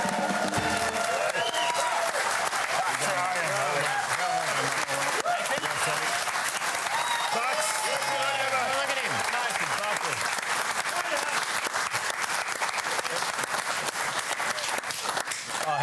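Studio audience applause welcoming Nathan Buckley onto a TV sports panel show, a dense sustained wash of clapping and some cheering that stays loud and steady throughout, with voices mixed in.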